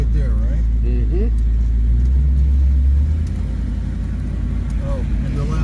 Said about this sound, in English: Oh, and the loud exhaust